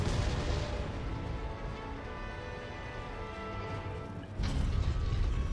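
Cannon fire in Monster Hunter World, a dense, rumbling blast over continuous game noise with a heavier booming burst near the end, loud and close.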